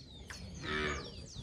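A Nelore cow moos once in a corral, a single drawn-out, fairly close low call in the middle, with faint background bird chirps around it.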